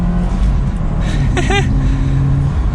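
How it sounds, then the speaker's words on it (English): Manual Subaru WRX sedan accelerating up through the gears, a steady, loud engine drone heard from inside the car, with a brief rising whine in the middle. "Oh, getting up into 5th gear there."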